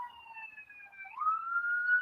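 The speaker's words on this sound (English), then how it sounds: "There's an ambulance passing right through you." An ambulance siren wails with a rising and falling tone, clear but somewhat distant, with no one talking over it.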